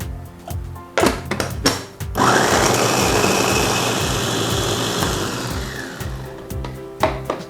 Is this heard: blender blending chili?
yes